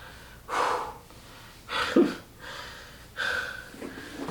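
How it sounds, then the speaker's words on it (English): Heavy, gasping breaths after a chest workout in a basement home gym, a few loud separate inhales and exhales with short pauses between them, close and alone. "I am out of breath."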